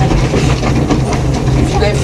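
A steam train on the Brecon Beacons railway rolling past, a loud continuous rumble with rhythmic clickety-clack of wheels on the rails, heard up close while people talk.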